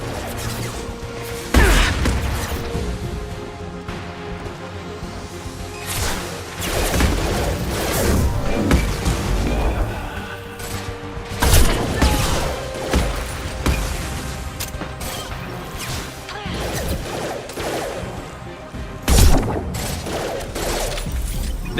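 Mass Effect 2 combat: steady rattling gunfire fills the scene, punctuated by a few heavy grenade blasts and crashes spaced several seconds apart, all loud and dense throughout.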